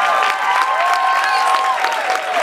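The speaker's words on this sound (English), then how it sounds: "Keep that applause rolling for Kat LeeHong." Audience at a university comedy competition applauding and cheering after a stand-up set, steady clapping with whoops over it, loud and continuous.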